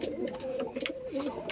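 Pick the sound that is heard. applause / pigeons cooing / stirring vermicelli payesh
pigeons cooing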